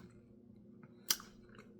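A single crisp crunching bite into a Dubai-style chewy cookie with chocolate, close and brief, standing out against a quiet low room hum.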